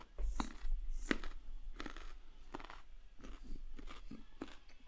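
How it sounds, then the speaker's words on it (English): Repeated crisp bites and crunchy chewing of raw carrot, close up, several sharp crunches spaced through the clip with steady mastication between them. "I have carrot sticks."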